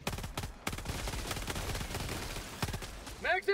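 Automatic machine-gun fire in Helldivers 2, rapid loud bursts of close shots with brief gaps, and a voice speaking over the end.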